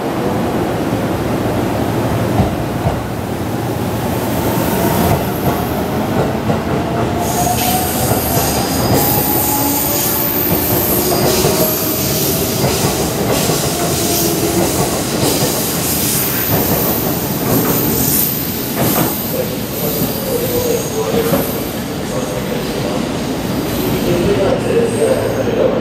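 A train rumbles and clatters into Hamamatsu Station in Japan, wheels squealing in long metallic whines as it slows, loud and close throughout.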